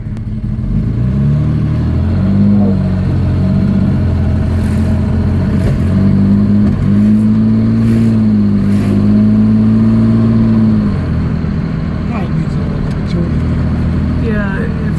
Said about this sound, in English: Heard that it's a little bit of backfire under heavier acceleration, but nothing real substantial